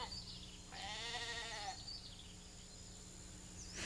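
Sheep bleat on a Devonshire sheep farm below the high moor, one drawn-out, wavering call in the middle against a steady low outdoor hum, with faint quieter bleats at the edges.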